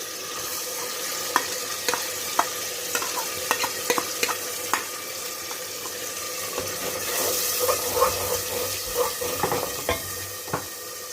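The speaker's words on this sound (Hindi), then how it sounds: "थोड़ा सा पानी डालूंगा ताकि जले ना टमाटर पेस्ट।" Water poured into tomato paste frying in a pan, with a soft sizzle and scattered stirring clinks and scrapes, close and moderately quiet, rising into a steadier hiss near the end.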